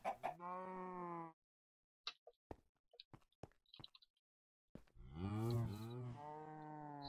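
Cows moo loudly and up close in a video game, a long low moo opening and another closing, with chickens clucking in short bursts between them and no talk.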